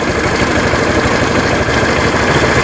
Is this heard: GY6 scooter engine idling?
yes